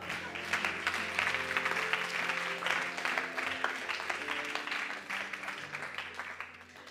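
An audience applauds in acclaim at a church service, steady dense clapping that stays loud and close for the whole stretch, with faint voices mixed into the crowd.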